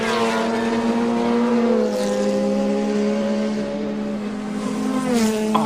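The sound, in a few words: Pilbeam MP58 race car driving up the hill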